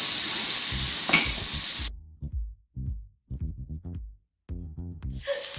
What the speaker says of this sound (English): then I flip to the other side and I put the rest of the garlic onto the steak.